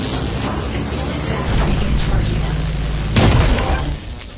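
A railgun fires in a virtual-reality hero shooter, giving one loud, sharp burst about three seconds in that stands out above a steady bed of game noise and music, then quickly fades.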